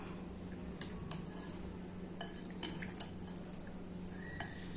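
Ingredients for a two-ingredient snack being stirred in a pan, with scattered light clinks and scrapes of a utensil against metal at irregular intervals over a steady low background hum.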